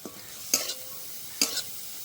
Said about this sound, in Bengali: এবার গাজরগুলো দিয়ে দেব। সব একসাথে ভালো করে একটু কষে নেব।